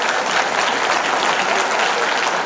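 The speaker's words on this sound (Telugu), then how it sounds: "మనం రోజు గట్టి చప్పట్లు కొట్టాలి" An audience at a district celebration of Dictionaries Month claps loudly and steadily, a dense, even wash of applause with no break, close and full.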